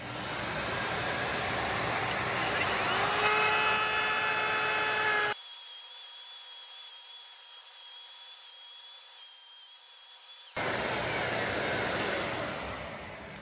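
A router cuts a Strat-style guitar neck pocket on a final pass. Its loud, steady whine with high tonal lines runs for about five seconds, cuts out to a quiet hum, then comes back just as loud near the end.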